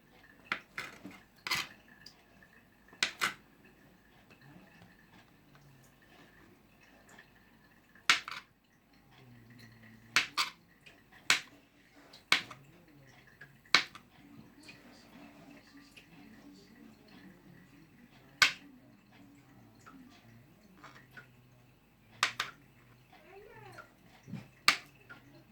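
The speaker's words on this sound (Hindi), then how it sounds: "अभी मैं इसको काट के इसके छोटे छोटे स्लाइसेस बना लूँगी।" A knife slices ingredients into small pieces for a Russian salad, giving sharp, irregular taps on a cutting board that stand out clearly over a quiet kitchen background.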